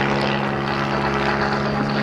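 Single-engine aerobatic airplane at an outdoor airshow flying an avalanche manoeuvre, a loop with a snap roll on top; a steady, loud propeller drone holds throughout with no pauses.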